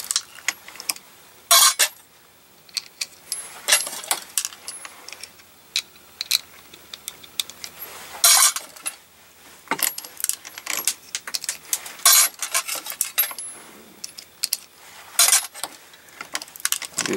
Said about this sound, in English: First I'll deprime all the cases with my universal deprimer,